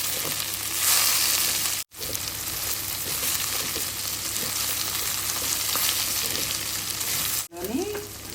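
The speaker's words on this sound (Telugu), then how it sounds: "ఉల్లిపాయలు బెండకాయలు బాగా ఫ్రై అయ్యే వరకు ఫ్రై చేసుకోవాలి" Onions and okra sizzle and crackle steadily in a hot pan, with a couple of brief stirring scrapes interrupting the frying.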